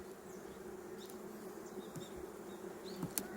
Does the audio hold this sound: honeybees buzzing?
yes